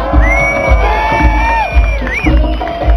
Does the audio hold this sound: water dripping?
no